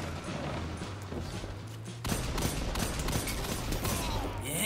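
Rapid gunfire from the Aullido de Luna weapon in Destiny 2, a dense burst of shots that grows louder and busier halfway through, with game ambience underneath and no talk.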